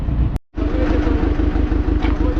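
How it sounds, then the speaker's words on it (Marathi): A small boat engine runs steadily with a regular low chugging rhythm, loud and close, after a brief cutout at the start. "तर आता होडी चालू झाली"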